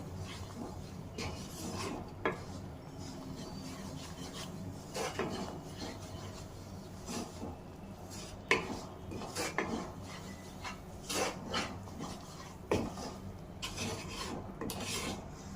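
Wheat flour being stirred into a sweet carrot, beetroot and coconut mixture with jaggery in a pan, giving a steady rasping, scraping rub of a spoon against the pan with repeated clinks, close and continuous with no talking.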